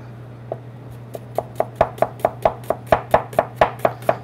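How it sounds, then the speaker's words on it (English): A knife slices onions thinly on a cutting board in a restaurant kitchen, crisp evenly spaced taps that start sparse and settle into a steady quickening rhythm, close and clear over a low background hum. "Nice thinly sliced onions."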